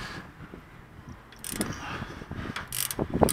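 Wrench working loose tight 18mm bolts on the rear hub of a 2003 Ford Expedition, with irregular ratcheting clicks and metallic clunks that grow busier and louder toward the end.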